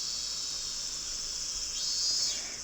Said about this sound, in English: all they let in was heat and the cries of the cicadas